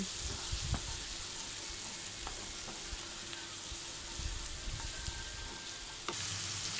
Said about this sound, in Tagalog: lutuin lang po natin ang bawang hanggang mag-golden brown